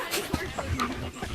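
A big dog pants in short breathy bursts close by, with people talking softly around it.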